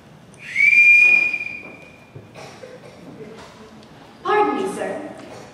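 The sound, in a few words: whistle blown in a stage musical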